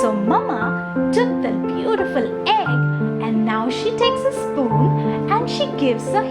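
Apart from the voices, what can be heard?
No distinct noise like a dog, phone or traffic.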